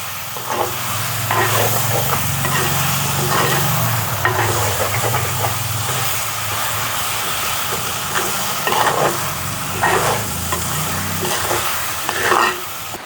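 A spoon folds and stirs a Jaffna-style chicken rice porridge mixture in a hot pan, with a continuous sizzle and hiss under repeated scraping strokes. No voices are heard.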